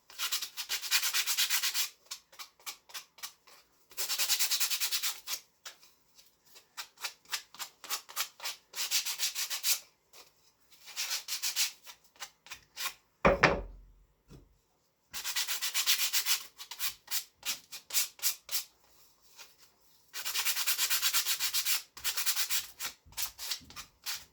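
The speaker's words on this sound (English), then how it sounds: "This is 60 grit sandpaper that I use for my sanding, my orbital sander." Repeated bursts of rough, scratchy hand sanding strokes with 60 grit sandpaper on pallet wood, in quick rhythmic runs, pausing between sets, close and fairly loud with no talking.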